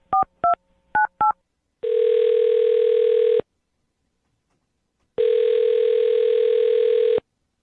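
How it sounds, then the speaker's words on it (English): A telephone in a morning radio studio is dialed with four quick touch-tone beeps, followed by two long, loud ringback tones separated by a pause of silence. No one speaks. "I'm going to dial his phone number right now"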